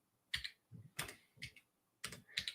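Keystrokes on an unfamiliar computer keyboard while editing in LazyVim, a few separate clusters of quick, crisp taps with short quiet gaps between them, close and fairly soft.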